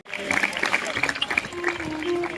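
Applause from an audience welcoming students at a school Independence Day celebration in Asra, a steady crowd patter that goes on under a speaker's voice.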